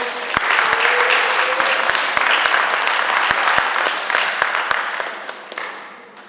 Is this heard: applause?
yes